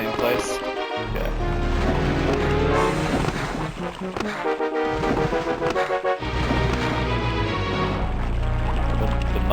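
River water in the video game Dark Forces: a loud, continuous rushing flow with dense, steady wash throughout, punctuated by a few brief low thumps.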